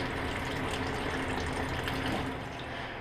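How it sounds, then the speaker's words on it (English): Engine coolant drains from a car's drain cock through a hose, making a steady, even rush of flowing liquid with no pauses or voices. "I've got a good bit of coolant drained"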